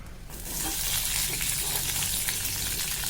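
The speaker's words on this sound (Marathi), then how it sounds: "आपलं तेल गरम झालंय आता त्यामध्ये आपण मिरच्या घालून घेऊया" Green chilies hit hot oil in a pan and sizzle steadily, a loud continuous crackling fry that swells after a brief start and holds for the rest of the moment.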